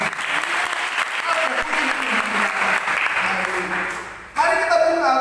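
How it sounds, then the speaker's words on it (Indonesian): A church congregation claps loudly and steadily at an Indonesian sermon. The dense, sustained applause thins briefly near the end before resuming with some voices mixed in. "Berikan dulu tepuk tangan bagi itu."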